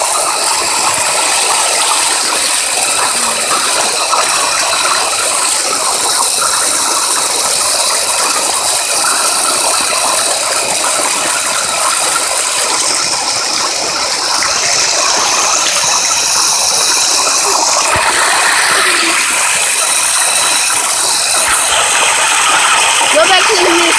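Water bursts from a fire hydrant in a continuous loud, hissing gush that stays steady and close for the whole stretch, with faint voices in the background.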